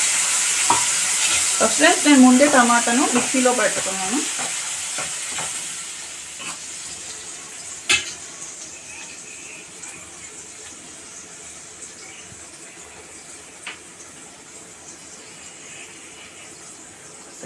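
Pureed tomato hits onions frying in a pan for chole masala curry, giving a loud sizzle with stirring that fades to a quieter steady fry. Someone speaks over the opening seconds.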